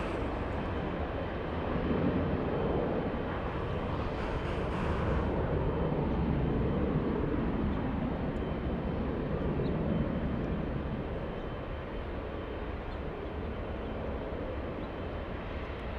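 A Boeing Dreamliner holding on the runway at Los Angeles International Airport before takeoff, its engines giving a steady broad roar that stays even from start to finish, heard from a distance with no voices.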